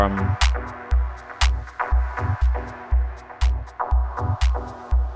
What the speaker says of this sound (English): harmonically tuned clap.